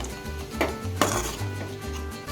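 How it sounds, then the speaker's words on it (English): A spatula scrapes and taps against a pan while drumstick leaf poriyal with scrambled eggs and grated coconut is mixed, a few sharp clinks over a low steady background, no speech. "give it a quick mix"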